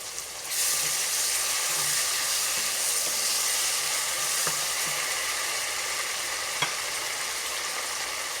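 Tomatoes with ginger garlic paste sizzle and fry steadily in a pan on a medium flame, a continuous close hiss with faint stirring clicks, no talking.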